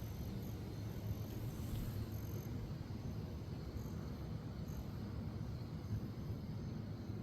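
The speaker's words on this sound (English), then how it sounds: "Like I knew I heard a plane." A distant airplane passes overhead, heard as a steady, low, broad rumbling drone that stays even throughout, with no talking.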